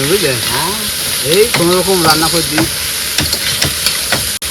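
Spices with turmeric sizzle and fry in a pan during home cooking in the Sundarbans, a steady close hiss with stirring scrapes, while voices murmur over it.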